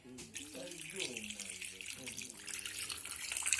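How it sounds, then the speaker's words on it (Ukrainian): Water is poured from a tap or jug over sliced peppers in a container, a steady splashing fill that grows slightly louder, with faint voice-like tones early on. "Все, заливаємо водичкою."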